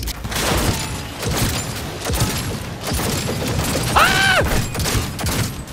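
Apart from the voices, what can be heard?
gunfire in Cyberpunk 2077 video game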